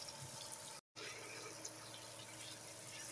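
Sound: water being poured into a cooking pot with tomatoes

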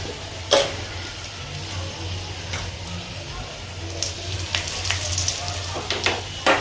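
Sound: tempering curry leaves and turmeric in hot oil

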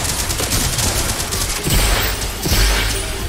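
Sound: SMG gunfire in the video game Larcenauts

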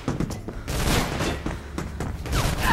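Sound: enemy pistol gunfire in video game Mirror's Edge

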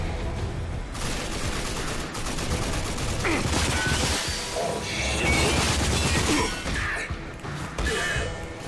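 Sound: explosions in a video game

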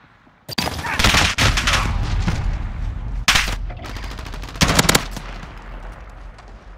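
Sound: gunfire in Call of Duty: Modern Warfare video game

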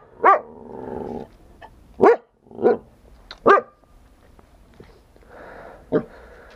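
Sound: dog barking

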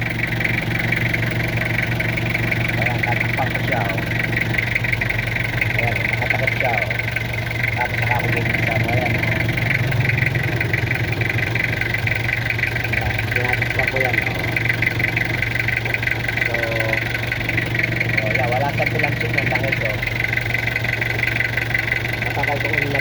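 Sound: car engine idling with oil filler cap open

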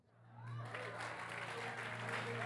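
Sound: congregation clapping during church sermon

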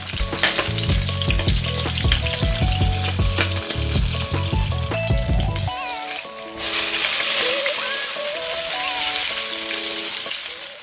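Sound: frying potato and eggplant in wok

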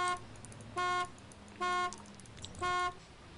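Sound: car horn honking in video game Arma II DayZ

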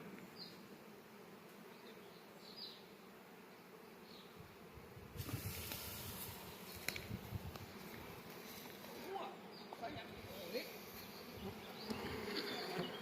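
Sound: swarm of honey bees being collected

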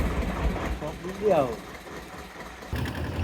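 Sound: fishing trawler engine moving away

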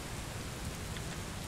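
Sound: rain in a bus driving video game

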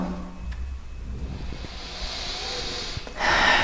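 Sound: breathing during yoga stretch

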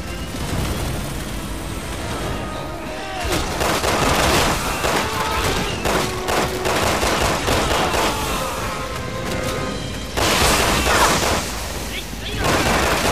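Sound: explosive rounds gunfire in video game Resident Evil 6

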